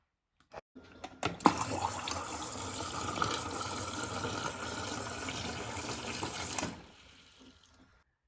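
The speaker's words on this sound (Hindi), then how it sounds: "टम्बलर मैंने उनका पानी से भर दिया और ये फ्रिज का पानी है" Filtered fridge water is poured into a tumbler in a steady stream for about five seconds after a few small clinks, then cuts off and leaves near silence.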